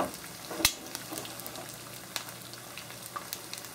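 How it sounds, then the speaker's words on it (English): Eggs frying over easy in a pan make a continuous moderate sizzle with small crackles and one brief sharp tap, with no talking. "just let them cook away here until they've got a nice firmness so they can be turned over"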